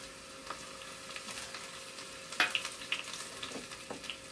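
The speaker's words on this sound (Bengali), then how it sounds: "এবার মারতে হবে ওপর থেকে তরকা" Hot oil sizzles steadily as a tadka tempering with extra red chilies fries, a faint close hiss broken by a few sharp crackles and pops, with no talking.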